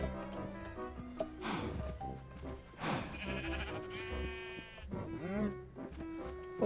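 Sheep bleating in Minecraft: several wavering bleats come in close succession over steady, tonal background game sound.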